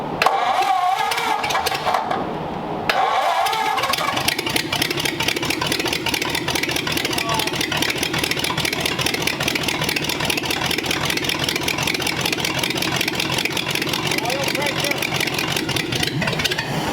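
An old car engine in an estate garage cranks and catches, then settles into a steady, loud, slightly rough idle that runs for most of the sound, with people talking over it.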